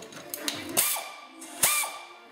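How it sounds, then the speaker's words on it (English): An air ratchet whirs and clicks in a few short bursts while removing a car's alternator bolts, with brief pneumatic hisses and ratcheting spins close by and quiet gaps between them. "Also, we have an air ratchet. So we're gonna do this in the quick style way, using air tools."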